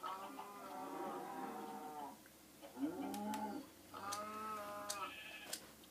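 Minecraft cows moo repeatedly in the video game, several drawn-out bellowing calls in sequence with short gaps, loud and close, with faint game sounds between them.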